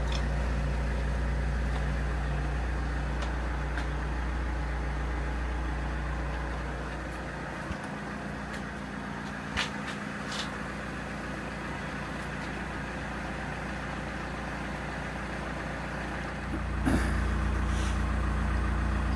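A car engine idles steadily at minus four degrees to warm up, a low, constant rumble close by that dips slightly partway through, with a few faint clicks and knocks and no talk.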